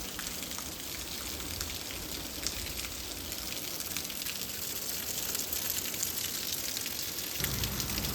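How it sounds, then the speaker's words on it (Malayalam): Heavy monsoon rain falls at Vagamon in Kerala as a steady, dense hiss of drops. The sound is close and unbroken, with no voices. "ഇവിടെ മഴ പെയ്തുകൊണ്ടിരിക്കുകയാണ്."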